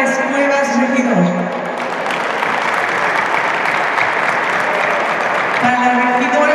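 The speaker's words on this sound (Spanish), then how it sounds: "Un fuerte aplauso" Loud, sustained applause at a Teachers' Day celebration fills the scene, with a voice speaking over the clapping at the start and again near the end.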